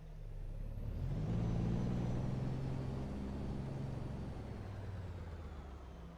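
A Kenworth W900A truck tractor maneuvering at low speed, its diesel engine giving a steady low rumble and droning hum that swells slightly and then settles, with no talk over it.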